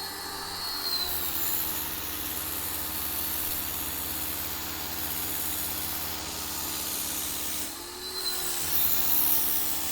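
A Ryobi 1800 PSI 1.2 GPM electric pressure washer spraying steadily, a loud continuous hiss with motor drone that briefly drops and restarts near the end, no talking.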